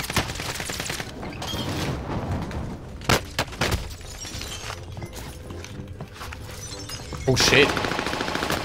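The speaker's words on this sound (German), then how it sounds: "Das ist ein SMG" A PPSh submachine gun fires in rapid bursts during a Warzone match, with scattered game gunfire and impacts around it, while a player speaks briefly over the action.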